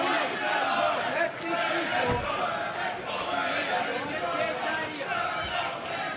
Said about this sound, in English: Cheers ringing out through the Resort World Arena here.